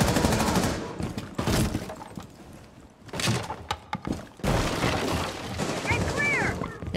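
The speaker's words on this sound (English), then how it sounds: "That sounded a lot like an explosion." An explosion goes off during a Rainbow Six Siege match on the Moscow map, a sharp blast followed by gunfire and impact thuds, with players talking over the game audio.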